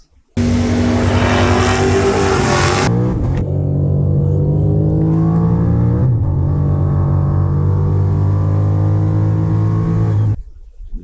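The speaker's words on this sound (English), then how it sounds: "That is the fastest pass that I've ever made in this car down the drag strip" A manual Dodge Challenger Hellcat makes a drag strip pass: a sharp loud launch with tire squeal, then the engine roars up through gear changes, dropping and climbing again before cutting off near the end.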